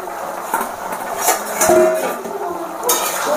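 A metal lid lifts off a cooking pot of potato and pumpkin curry, bringing close clinks and scrapes of cookware with a sharp metallic ring in the middle and a soft bubbling wash between the knocks.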